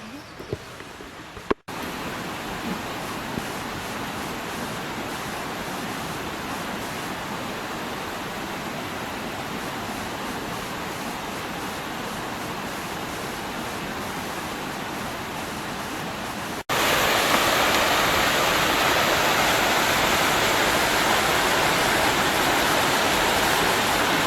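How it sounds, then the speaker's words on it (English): A small mountain stream tumbling over little mini waterfalls along a hiking trail in Wyoming or Montana, a steady, dense rush of water that stays close and constant throughout, growing louder and brighter in the final stretch. "You're hiking along a stream the entire time with little mini waterfalls"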